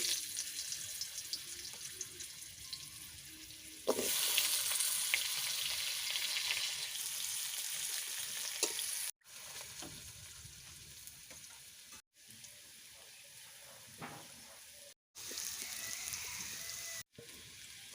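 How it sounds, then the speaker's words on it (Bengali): Potatoes frying in hot oil in a wok, a steady bright sizzle that surges loudly as they go in, broken by a few brief abrupt gaps. "কড়াইটা গরম হয়ে গেছে, এবার আমি আলুটাকে দিয়ে দিচ্ছি।"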